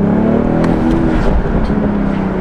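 A roughly 300-horsepower hybrid convertible car's engine revs loudly and steadily at close range, a sustained throaty drone with a brief lift partway through and no talk over it.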